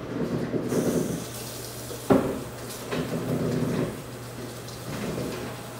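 Tap water runs steadily into a kitchen sink while hands are washed during home meatloaf (embutido) cooking, with a brief louder splash or clatter partway through and no talk.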